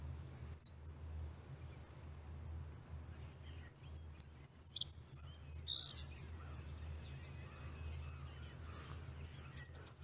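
A grassland sparrow gives thin, high, buzzy songs in short bursts with pauses between them, faint over a quiet low rumble of background noise.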